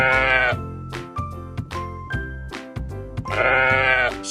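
Sheep bleat in two long wavering calls at the start and end, set over steady bright background music with tinkling notes; no talking.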